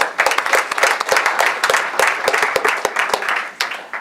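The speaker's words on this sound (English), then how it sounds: "Round of applause for our panelists." An audience at a panel discussion breaks into brisk applause, many hands clapping together for a few seconds in a lively, indoor burst.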